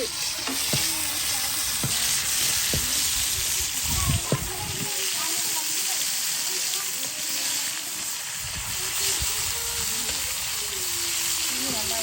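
Seer fish fries in a pan with a constant loud sizzle, while a ladle scrapes and turns the pieces several times, with speech faintly present under the hiss.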